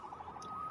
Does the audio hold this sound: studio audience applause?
no